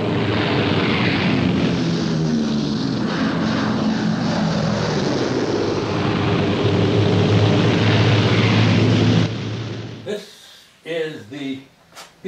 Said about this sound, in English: P-51 Mustang.